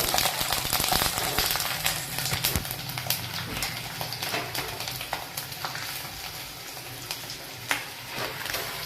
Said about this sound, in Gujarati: આખા લસણની કળી આપણે આમાં એડ કર્યા પછી જો આવી રીતે લાલ તળાઈ જાય